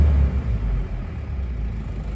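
A diesel engine in an automatic Isuzu Panther with badly worn cylinder liners idles steadily, a low, even rumble held close and loud throughout.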